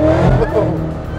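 Supercharged Ford Mustang GT convertible with a VMP 2650 Gen 3 supercharger, over 1,000 crank horsepower, accelerating hard: a loud, close, rising engine roar with steady rumble through the whole brief burst.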